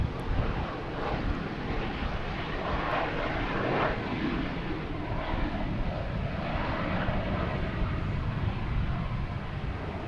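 A Southwest airliner at Boston Logan Airport powers up for takeoff toward Austin. It makes a loud, continuous jet rumble with some wind buffeting the microphone, and no one speaks.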